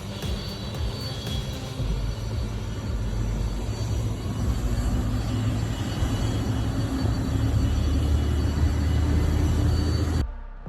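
Boeing 747 freighter jet engines spool up at Chicago O'Hare's South Cargo Terminal, a steady loud roar and rumble with a rising whine that swells over ten seconds before cutting off abruptly.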